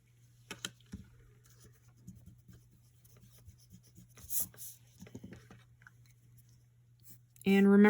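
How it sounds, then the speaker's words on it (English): A number 2 pencil drawing lightly in a sketchbook, giving faint, intermittent rubbing and scratching strokes over a low steady hum, with a brief louder noise at the very end. "Mechanical pencils are great for drawing light, or a number 2 pencil, which I'm using."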